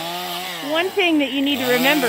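A chainsaw bucks firewood rounds in winter in Alaska, its steady engine drone running continuously underneath a man's close, clear talking.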